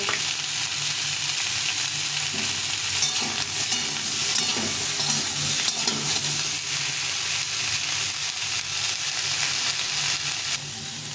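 Cauliflower pieces fry in hot oil with turmeric and salt, giving a steady, close sizzle with stirring scrapes and clinks throughout, with no talking.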